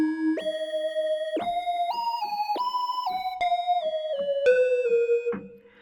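A bright synth lead from the Mercury 80 preset in Falcon, JP Legacy bank, plays a stepped melody of sustained notes that jump up and down in pitch, clean and alone without drums or voices.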